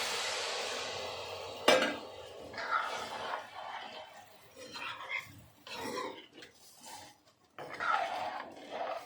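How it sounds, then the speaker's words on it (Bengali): Water poured onto potatoes frying in a pan for dum aloo curry bursts into loud hissing sizzle, followed by uneven bubbling and spoon-stirring scrapes, all up close. "এবার দেখুন আমি আলুতে জল দিচ্ছি"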